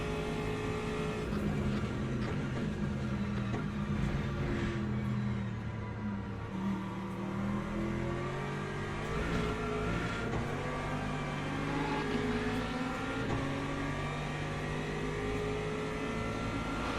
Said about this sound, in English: That McLaren's got some straight line speed.